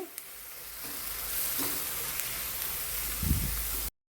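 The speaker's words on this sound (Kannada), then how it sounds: "ಮಸಾಲೆಯನ್ನು ಹೈ ಫ್ಲೇಮಲ್ಲಿಟ್ಟು ಫ್ರೈ ಮಾಡಿ." Ground masala paste frying on high flame for a prawn gravy, a dense steady sizzle with a few soft stirring scrapes, close and continuous, ending abruptly.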